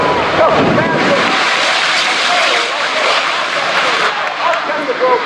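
A jet-powered truck with 25,000 horsepower roars loudly and steadily at an airshow, a broad continuous blast of engine noise with an announcer's voice running underneath.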